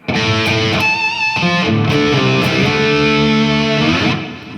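A slowly played electric guitar phrase from a guitar solo, distorted and sustained, with bends and several note changes ringing continuously and loudly without any talking.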